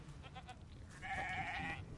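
A single faint, wavering sheep bleat in the video game Divinity: Original Sin II, quiet and brief over a soft background.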